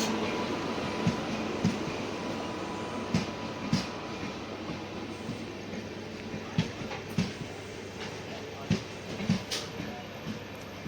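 An Ernakulam–Nizamuddin express train rumbles steadily at a railway station, with a dense low roar and repeated rhythmic wheel clunks spaced through the scene, fairly close and continuous without speech.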